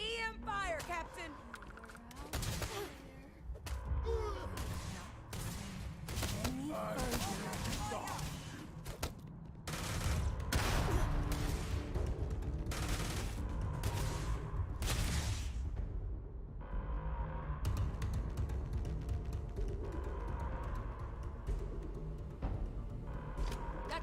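Energy weapon fire in the space game Starfield, a rapid string of sharp broadband zaps and thuds, loud and close, with a dense burst in the middle and scattered shots around, under speech.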